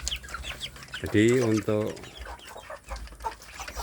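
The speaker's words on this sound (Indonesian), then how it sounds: "saya memelihara anak ayam kampung ini tujuannya adalah untuk pembibitan anak ayam kampung saya" Native village chicks in a brooding coop give a brief burst of clucking chirps near the middle, surrounded by someone speaking.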